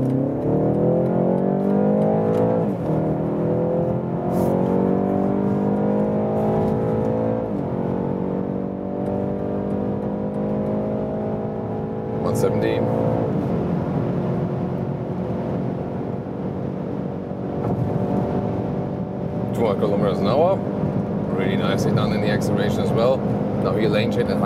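Inside a BMW 330i in sport mode, the engine drones and climbs in pitch as the car accelerates through the gears, with steady road and wind noise filling the cabin and a few brief clicks and knocks.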